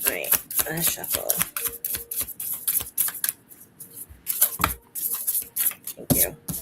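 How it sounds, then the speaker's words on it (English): Tarot cards are shuffled in quick, crisp riffles and taps, close and fairly quiet, with a voice speaking over parts of it. "All right, let's shuffle."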